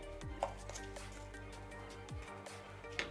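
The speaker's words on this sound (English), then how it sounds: "I prefer to crush my rosemary spice like that" Dried rosemary is crushed by hand for minced beef, giving a few soft, brief crunching and squishing sounds up close against a steady low background hum, with no talking.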